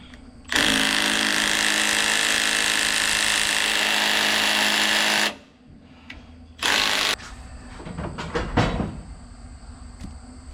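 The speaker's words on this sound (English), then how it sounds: "Ratchet." A ratchet tool working on a car's stuck clutch gives a loud, steady buzzing run of about five seconds, then a short second burst, followed by scattered clanks and clicks of metal parts nearby, with no talking.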